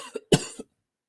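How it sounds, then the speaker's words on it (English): A man clears his throat with a few short, raspy, cough-like bursts close to the mic, the strongest in the middle, then silence. "Let me clear my throat."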